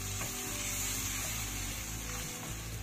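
Spice paste ground in a mixer fries in hot oil on a gas stove over medium heat for a vegetarian capsicum paneer dish, giving a steady close sizzle broken by a few soft stirring scrapes, with no talking.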